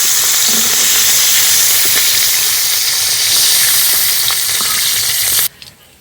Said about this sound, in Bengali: ক্যাপসিকামটা না ভাজলেও চলবে, তবে আমি হালকা করে ভেজে নিলাম।